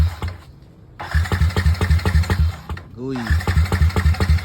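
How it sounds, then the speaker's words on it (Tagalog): A motorcycle cold-starting after a storm gives a loud, rough, rhythmic engine chug that drops out, turns over again and then dies, with a short spoken interjection in the clip. "Abay at mukhang cold start nga ang motor natin dahil sa bagyo."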